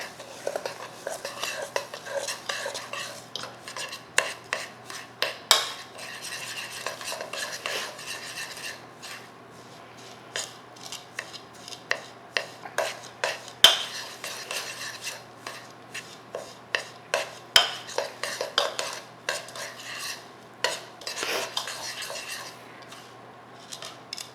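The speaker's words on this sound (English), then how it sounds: "I'm going to take just a regular spoon and stir all the ingredients together" A regular spoon stirs a large batch of homemade Montreal steak spice in a bowl, soft scraping and rustling with intermittent clinks of metal against the container, faint and close.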